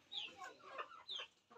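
Chickens cluck and squawk in short excited bursts as villagers try to catch roosters. The calls are faint and somewhat distant, with a few pauses between outbursts.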